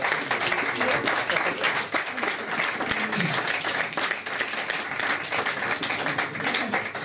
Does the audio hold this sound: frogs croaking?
no